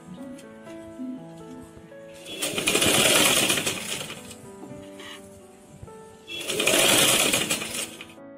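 Sewing machine stitching a sleeveless umbrella frock, two loud bursts of fast mechanical whirring separated by a quieter pause, with faint background music underneath.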